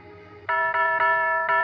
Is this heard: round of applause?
no